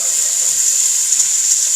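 Onions hit hot oil in a pan and sizzle, a steady bright hiss that holds evenly throughout, close and fairly loud with no talking.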